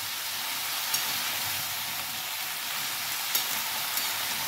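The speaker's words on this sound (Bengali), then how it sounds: "এবার আমি ভালোভাবে নাড়বো এগুলো" Pui mituli, the seeds of Malabar spinach, are stirred in a hot pan. A soft, even sizzle runs throughout, with a few faint scrapes of the spoon.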